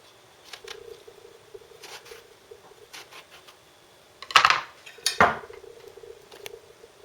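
A knife cuts around and over the top of an aubergine in a home kitchen, heard as quiet scraping followed by two sharper cutting strokes against a faint background hum.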